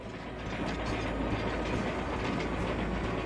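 A train clatters along rails in the Hard West 2 turn-based video game, a steady rumbling clickety-clack with mechanical ratcheting, continuous and fairly loud with no talk.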